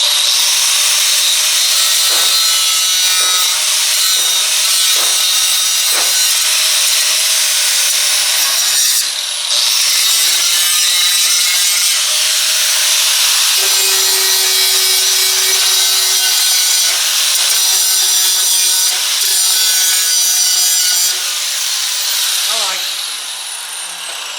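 An angle grinder fitted with a cut-off wheel cuts metal during fabrication work on a 1958 car project, giving a loud, close, continuous abrasive whine whose pitch shifts as the wheel bites and eases, with a few brief stops.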